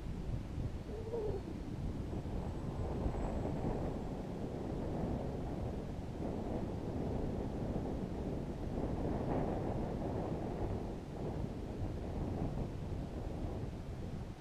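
Steady wind buffets a microphone outdoors during a model plane flight, a continuous low rumbling roar that swells slightly at times, with no clear voices.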